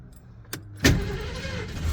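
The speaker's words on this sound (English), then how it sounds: "see, it didn't even take that long to start up" Key turning in a 1970 Ford Mustang Grande ignition, with a couple of sharp clicks followed by the engine catching and settling into a low, rough rumble close by.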